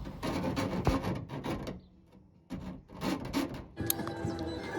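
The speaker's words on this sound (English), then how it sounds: "Then you sand down the surfaces on the inside." A metal sander rasps against the inside of a Ford Transit roof panel in bursts, stopping briefly mid-way before grinding on, close and fairly loud with no talk.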